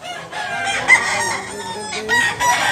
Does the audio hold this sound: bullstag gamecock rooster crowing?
yes